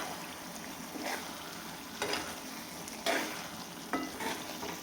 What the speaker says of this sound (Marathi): आता आपण एकदा ह्याला मिक्स करून घेऊयात.